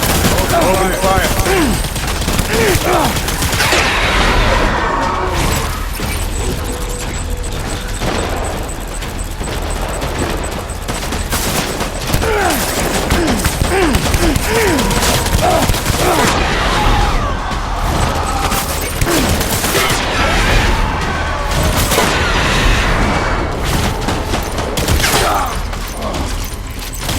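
Gunfire in the video game Death Stranding, with dense sustained automatic bursts, booms and explosions, loud and continuous, with game voices calling out over the battle.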